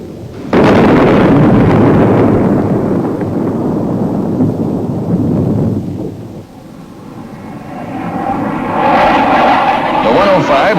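Aircraft engine roar from a tactical bomber making a bombing pass, then a heavy delayed detonation boom rumbling loudly before a renewed engine surge, all dense and powerful with no talk.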